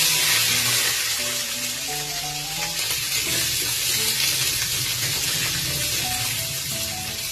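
Potatoes frying in a pan give off a dense, continuous sizzle and hiss, loud and close, with faint tonal clinks and music-like background notes running beneath.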